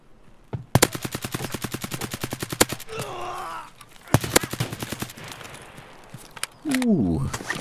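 Rifle fire in the shooter game Escape from Tarkov, involving a Mosin rifle: two rapid volleys of sharp, loud cracks, then scattered single shots, with brief voice sounds in between.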